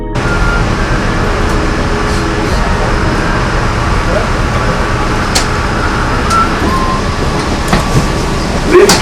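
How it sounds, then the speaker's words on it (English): The JFK AirTrain toward Jamaica runs along its track, giving a loud, continuous rumble and hum with faint metallic squeals and clicks throughout, and some voices are heard underneath the train noise. "This train is a Jamaica train, stopping at Federal Circle for hotel shuttle."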